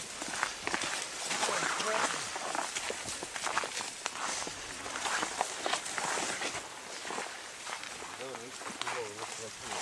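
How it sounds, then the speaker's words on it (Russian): Footsteps crunching and scraping across lake ice on a winter fishing outing, a close, continuous rhythm of steps with people talking over them. "Вот они первые шаги по льду."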